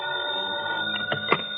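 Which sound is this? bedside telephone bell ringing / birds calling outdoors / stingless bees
bedside telephone bell ringing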